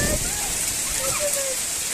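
Hail pellets the size of beads drum down steadily on an outdoor surface, a dense pattering hiss, while children talk over it.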